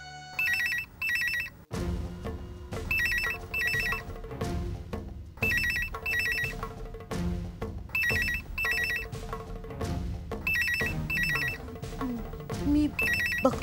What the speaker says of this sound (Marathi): मी बघते कोणाचा फोन आहे.